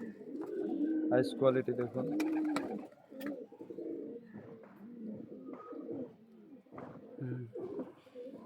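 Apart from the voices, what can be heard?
pigeons cooing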